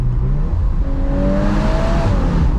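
A tuned Stage 1 VW Golf R Mk8 engine revs up loud and close, its pitch climbing steadily then easing, with no talking.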